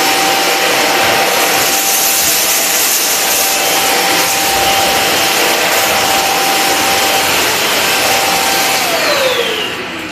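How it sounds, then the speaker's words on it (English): An Inalsa Ozoy Premium vacuum cleaner with mop drones loudly and steadily at close range as it sucks up larger dal grains, the broad hiss and whine continuous for about ten seconds with a faint rising tone near the end. "Let's see how this vacuum cleaner"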